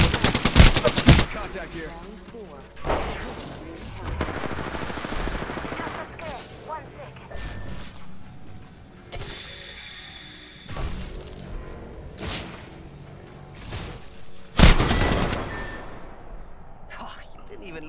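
Rapid gunfire bursts and single shots in the Apex Legends video game, loud and close, with crashes and whooshes between volleys and a voice speaking briefly.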